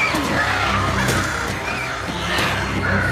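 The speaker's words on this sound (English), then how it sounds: "Infected crows. Great." Infected crows in the video game Days Gone caw in a dense, noisy flurry, with harsh, scratchy calls and flapping that stay loud and close throughout the brief moment.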